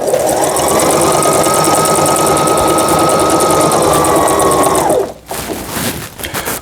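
A Brother 2700 sewing machine runs a steady, fast, close stitching whir for about five seconds, then stops abruptly, leaving a few softer mechanical clicks and handling noises.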